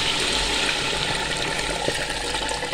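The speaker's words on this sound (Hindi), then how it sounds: "तो हम इसमें अपनी यखनी शामिल कर देंगे जो अलग की थी हमने।" Yakhni stock being poured into a cooking pot, a continuous gushing, splashing stream of liquid that runs steadily throughout.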